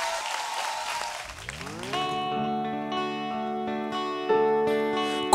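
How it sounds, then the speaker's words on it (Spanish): Brief audience applause for a performer at a live session at El Interlude, a short burst of clapping that gives way within a second or so to sustained musical notes ringing out clearly. "Un aplauso para él."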